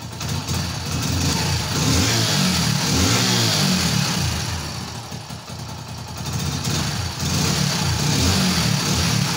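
A Hero Splendor Plus BS4 motorcycle engine runs close by after a first-kick start, chugging in a steady idle with a couple of gentle revs rising and falling, no talking over it.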